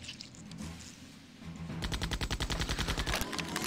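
Gunfire from the video game Septerra Core starts after a quiet opening, then becomes a rapid, even burst of a dozen or so loud shots in steady rhythm.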